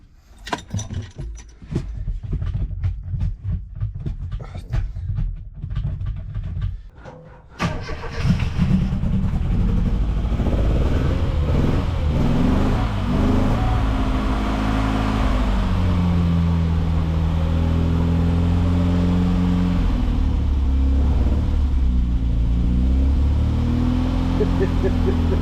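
An old one-owner Mini Cooper barn find cranks and catches, then its engine settles into a loud, steady running drone close by with uneven idle surges, after a stretch of clattery handling noise.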